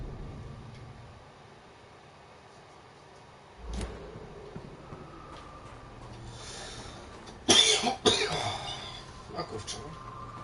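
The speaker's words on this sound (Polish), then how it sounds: "Będzie kaszlący stream." A person coughs and clears their throat, a brief harsh burst followed a few seconds later by a louder cluster of coughs, against quiet room noise with muffled talking during a Vampyr game stream.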